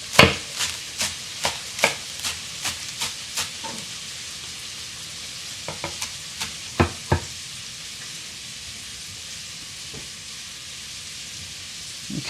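A knife chops green onion on a cutting board, a run of evenly spaced sharp taps that slows into scattered knocks, with a faint sizzle of frying in the background.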